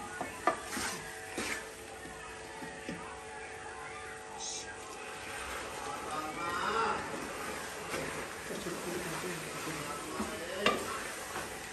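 Sugar syrup poured into roasted gram flour in a pan and stirred, soft sizzling with repeated scraping and knocking of a spoon against the pan, fairly close and quiet, with someone talking over it.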